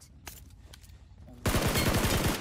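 Rapid automatic gunfire from PUBG Mobile erupts suddenly halfway through and stays loud, a dense spray of shots after quieter game ambience.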